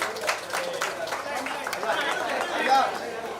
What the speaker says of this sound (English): A big round of applause for these ladies,